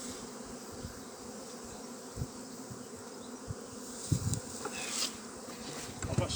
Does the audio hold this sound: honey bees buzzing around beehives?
yes